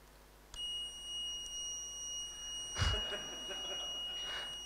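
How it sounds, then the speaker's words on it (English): A steady electronic buzzer tone sounds continuously, with a brief burst of rustling noise partway through. "So I tell the thing that there's a buzzer"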